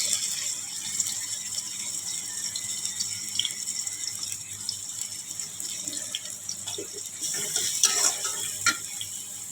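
Garlic and greens fry in a hot pan with a steady, fairly close hiss and crackle that runs unbroken throughout, along with a few faint clicks of stirring. No voices are heard.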